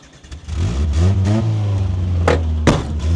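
A Nissan truck's engine catches and revs up, then holds a steady mid-pitched drone as it pulls away over rough ground, with a couple of sharp knocks along the way.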